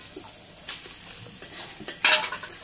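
A spoon stirs a spiced fish head with Gobindobhog rice in a pan, making a few quick scraping strokes over a light sizzle in a short burst.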